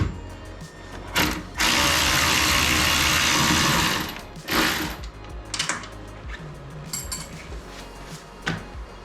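Ratchet wrench removing 12 mm bolts from a Miata soft top, a long loud buzzing run of clicks followed by shorter bursts and scattered single clicks, close and mostly alone.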